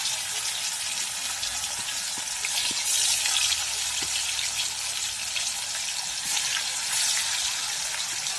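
Vegetables frying in hot oil for a paneer and pea curry, a steady close sizzle with light crackle throughout, swelling slightly louder at moments, no voices.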